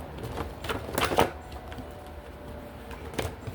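Quiet riffling and soft slapping of tarot cards being shuffled, a quick flurry of crisp flicks followed by a few isolated taps, close and faint.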